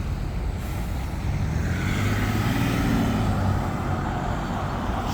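A Metro Decker EV electric double-decker bus passes on a street in York, North Yorkshire, a loud steady road rumble with a rising and falling electric whine as it goes by.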